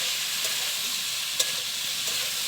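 Vegetarian pumpkin greens chorchori frying in a pan, a steady bright sizzle with faint stirring scrapes and one sharp clink partway through.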